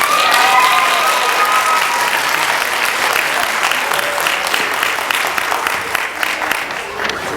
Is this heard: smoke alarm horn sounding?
no